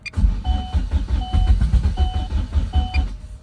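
Chevy Cruze engine cranking repeatedly as it tries to start, a rhythmic churning starter turnover with sputtering catches and a recurring electronic beep chiming about every second.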